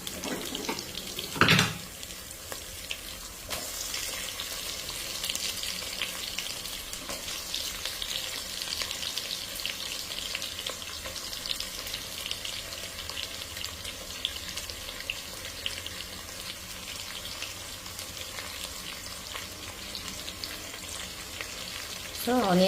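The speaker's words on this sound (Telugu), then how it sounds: "ఈ ఆనియన్స్ అనేది కొంచెం పింక్ కలర్ వచ్చేంత వరకు వేయించుకున్నాము, అంటే ఫ్రై అయ్యే వరకు." Onions and green chillies fry in a pan with a continuous hiss like rushing water. A sharp clatter comes early, and occasional stirring knocks follow.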